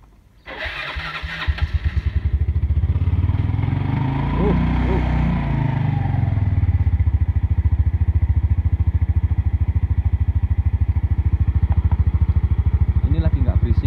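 A Yamaha Mio Sporty scooter with a noisy CVT is started, cranking briefly and then catching. The engine revs up and settles into a close, steady idle throughout.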